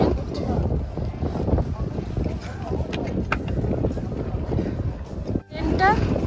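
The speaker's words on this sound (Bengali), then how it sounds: "প্রচণ্ড হাওয়া, আর তার সাথে ঝিঝি বৃষ্টি" Strong wind with light drizzle buffets a tent camp in the mountains, a rough, continuous roar of gusts rushing past the microphone while a person talks over it.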